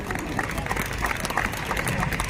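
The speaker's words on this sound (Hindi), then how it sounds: "जोरदार तालियों से एक बार हम सभी" A crowd at the 77th Nirankari Samagam religious gathering claps steadily and loudly, a dense, continuous wash of applause with a speaking voice faintly mixed in.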